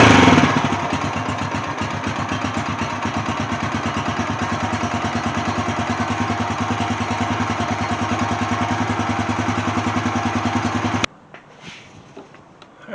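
Small single-cylinder engine on a quad, freshly fitted with a new carburetor, starting with a burst and running at a steady, loud, even putter for about eleven seconds before cutting off abruptly into near silence.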